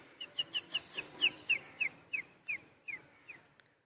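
A boy mimics a ringing bell with a quick run of about a dozen short, high whistled chirps, steady in rhythm and fading slightly toward the end, heard faintly and close.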